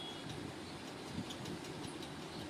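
The Nilgiri toy train to Ooty running along its line, a faint steady rumble of rolling wheels with soft clatter, distant and without any talk.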